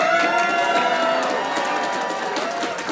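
Convention audience at a fan event in Atlanta cheering on cue, a dense wash of voices and shouts holding steady for a few seconds.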